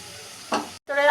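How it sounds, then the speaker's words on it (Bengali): Spices sizzling in a pan for teasel gourd with coconut, a close frying hiss with a brief stirring scrape, cut by a short gap before the sizzle returns louder. "আমি নারকেল দুধ দিয়ে মশলাটা ভালো করে কষিয়ে নেব"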